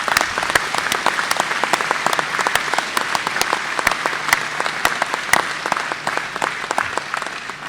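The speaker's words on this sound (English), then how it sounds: "So let's give them a big round of applause." A crowd applauds steadily, dense clapping sustained throughout without a break.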